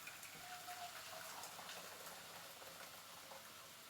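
Tap water runs steadily into a pan for cooking spaghetti, a faint, even gushing rush in a home kitchen with no talk over it.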